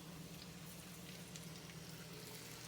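Breaded chicken drumsticks coated dry, wet, dry crackle and sizzle in hot cooking oil, a soft, steady frying hiss with fine popping spatters throughout.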